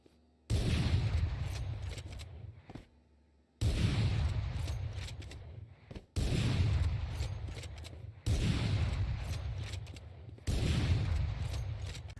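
Sniper rifle fire in the video game Valorant: five loud, heavy blasts, each ringing out in a long sustained roar lasting about two seconds before the next, close and with no talking.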